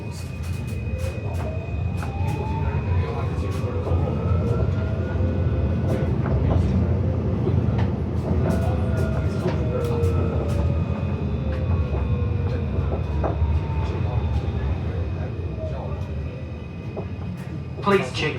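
A Melbourne route 109 tram runs with a steady low rumble and rolling wheel noise, plus a faint rising and falling motor whine and scattered clicks, heard from inside the car at a constant level throughout.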